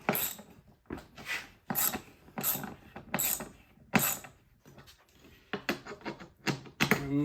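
Ratchet wrench tightening the seat base bolts on an M38A1 jeep, heard as repeated bursts of sharp close clicking, several strokes in a row with short pauses between them.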